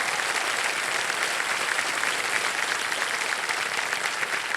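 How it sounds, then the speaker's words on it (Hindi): A television game show studio audience breaks into sustained applause, a thick, continuous roar of clapping that stays loud and even from start to finish with no talk over it. "तालियां बज जाए।"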